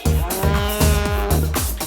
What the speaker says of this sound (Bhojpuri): गाय भैंस रंबावेले।